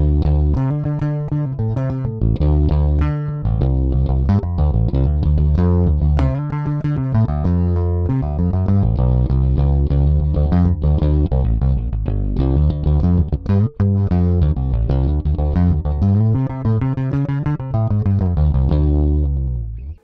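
Epiphone Newport bass played on its neck pickup and recorded direct, giving a steady run of loud, round plucked notes in a continuous melodic line with no talking.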